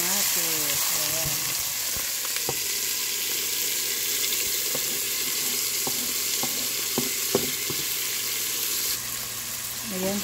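Tomatoes and fiddlehead fern sizzle steadily in a hot pan, a constant bright frying hiss with occasional clicks and scrapes of a utensil stirring.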